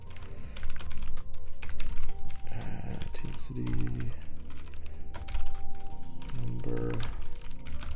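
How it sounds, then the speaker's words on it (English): Rapid clattering keystrokes on a computer keyboard during game engine coding, dense irregular clicks throughout, close, while someone talks intermittently over the typing. "Man, I feel like my typing is going to shit right now."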